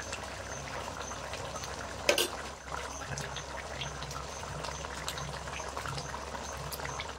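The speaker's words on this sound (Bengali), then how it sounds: "অনেকক্ষণ ধরে আমি কিন্তু ফুটিয়ে নিয়েছি মাছটা, আর মাছ থেকে কিন্তু তেলও ছেড়ে দিয়েছে উপরে" Boal fish kalia curry bubbles in its released oil with a steady low sizzle and simmer, broken by one brief clatter of stirring, close and alone without talk.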